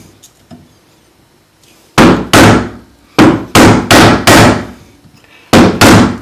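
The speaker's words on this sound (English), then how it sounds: "with the flat edge of the chisel against the line, just inside, we start to cut down" A mallet strikes a chisel cutting down into an oak joint, loud sharp wooden knocks in small groups, a pair, then four quick blows, then another pair, with quiet between.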